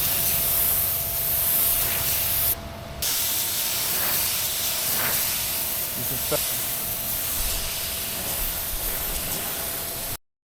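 A spray gun spraying primer onto a car bumper hisses almost continuously for about ten seconds, with a brief pause near the start and a few faint clicks.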